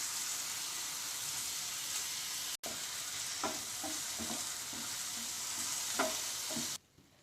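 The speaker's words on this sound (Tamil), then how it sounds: "அடுத்தது டொமேட்டோ கெச்சப் சேர்த்துட்டு இப்போ நல்லா மிக்ஸ் பண்ணிக்கலாம்." Red chilli sauce and tomato ketchup being stirred in a hot pan for Idly Manchurian, a constant sizzle with soft scraping strokes of the spoon, ending abruptly.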